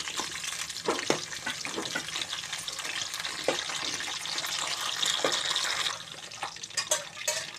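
Amla pickle ingredients fry over low heat until golden, giving a steady soft sizzle with scattered pops and crackles, close and continuous without talk.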